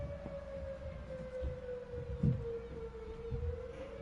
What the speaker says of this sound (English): I don't know if you guys can hear the purge siren.